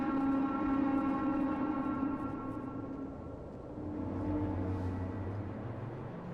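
Air raid sirens in the video game Rain World sound a sustained, layered wail that holds steady and then slowly fades, with a low rumble swelling beneath and no talk.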